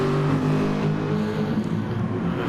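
Race cars, including a VW, run down Conrod Straight at Bathurst in a racing video game, a steady loud engine drone holding near and constant without a break.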